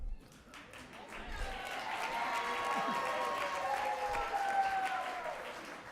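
Sustained applause from an audience at a Black History Month honorees ceremony, fairly quiet and distant, with voices mixed in beneath the clapping.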